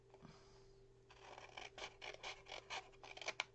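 Scissors cutting through cardboard for a handmade Valentine's gift box, a run of quick close snips and rasping slices in an uneven rhythm, fairly faint against a quiet room.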